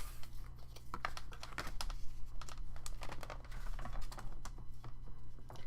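Scissors snipping card paper for a handmade fold card, quick close crisp cuts and light papery rustles in an irregular run, quiet and without talk.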